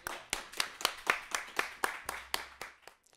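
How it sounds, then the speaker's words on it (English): A small crowd claps for a spoken word poet, about a dozen sharp, evenly spaced claps sounding close and moderately loud before they trail off. "Everybody make some noise for Nefertkau, please."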